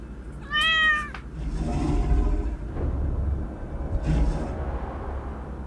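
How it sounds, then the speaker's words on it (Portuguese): A cat gives a sharp, loud meow, then quieter meows follow over a low background rumble, with no voices. "Gatinho."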